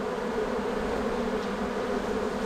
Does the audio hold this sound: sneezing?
no